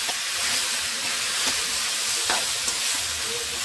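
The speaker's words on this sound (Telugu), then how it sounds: "దొండకాయ లో ఫ్లేమ్లో పెట్టి ఉడికించాలి" Ivy gourd curry cooking on a low flame in a pan gives off a loud, even sizzle and steamy hiss, with a few soft stirring scrapes.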